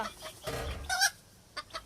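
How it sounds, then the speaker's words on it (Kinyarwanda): Chickens cluck in a few short, soft bursts, scattered across a quiet farmyard with brief pauses between calls. "ntabwo urarangiza kugaburira inkoko"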